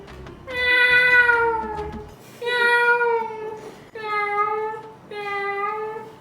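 A person's voice imitates a cat with four drawn-out meows, loud and close, each separated by a short pause, in a playful animal-sound challenge.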